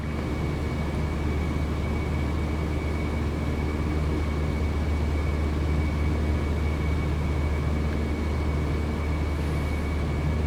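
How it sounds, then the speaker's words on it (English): Simulated King Air turboprop taking off at Edinburgh in Microsoft Flight Simulator 2020: a steady, loud engine drone with a constant low rumble and a faint tonal whine, sustained without change throughout. "there's the King Air taking off"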